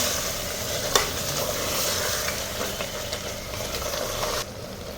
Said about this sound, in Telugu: నేను జీడిపప్పు వేస్తున్నాను